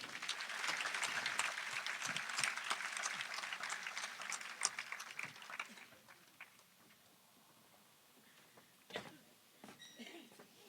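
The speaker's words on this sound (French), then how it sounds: "Nous appelons et nous l'applaudissons tous très fort," An audience at a French speaking contest applauds a speaker, with quiet, fairly distant dense clapping for about six seconds that thins to a few scattered claps and small noises.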